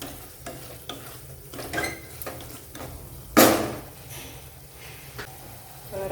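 Rice tipped into a hot pan for Chinese-style veg fried rice, with scraping stirs and sizzling, and one louder clattering burst in the middle.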